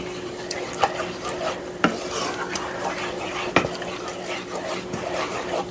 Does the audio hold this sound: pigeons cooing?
no